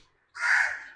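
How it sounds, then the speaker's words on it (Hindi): A single crow caws once outdoors, a short, harsh call that breaks in after a brief silence, moderately faint and alone. "आपको हमारा कौवा भी शायद बाहर सुनाई दे रहा है"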